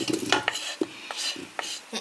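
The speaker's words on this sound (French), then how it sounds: "Allez c'est parti, on va rajouter" Gnocchi tipped into a pan of pesto cream sauce, with a series of short scraping stirs and utensil clacks against the pan over a soft sizzle, close and fairly quiet.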